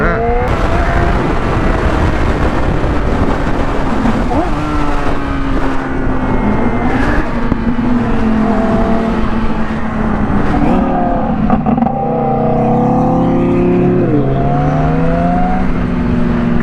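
A 1600 hp twin-turbo Audi R8 roars past at full acceleration, its engine note climbing and sweeping by close and loud over steady road and wind roar, heard from a Yamaha R6 motorcycle.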